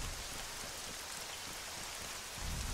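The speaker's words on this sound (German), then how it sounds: "Es regnet." Steady rain falling in the video game Arma III, a dense continuous hiss of drops without letup, even in level and heard alone.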